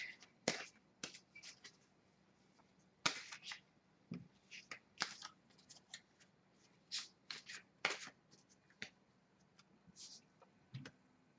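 Guardian Angel reading cards are shuffled in quiet, irregular bursts of crisp riffling and slapping, close and soft, separated by short silent gaps.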